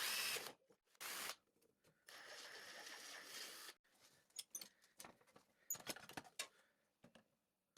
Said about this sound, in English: used the outer pipe as a guide to drill the inner pipe